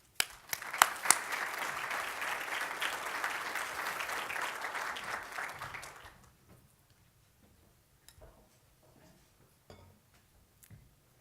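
Audience applause greeting the opening keynote speaker at a legal technology conference, a dense, steady clapping that starts sharply, holds for about six seconds, then fades into quiet room noise with a few faint knocks.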